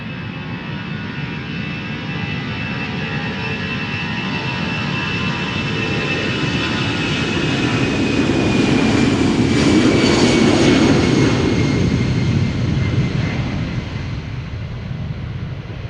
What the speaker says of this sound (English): this is going to Florence, Firenze, another Airbus